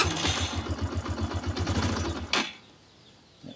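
A Yamaha XTZ 125 motorbike engine idles with a rapid, even low pulsing for about two seconds, then cuts out, leaving near silence.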